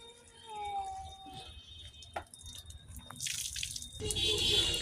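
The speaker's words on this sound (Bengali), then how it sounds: "আমার বাবাটা গাছে পানি দিচ্ছে।" Water poured onto rooftop plants during daily evening watering, with soft splashing and dripping in a quiet setting, several short pours and trickles.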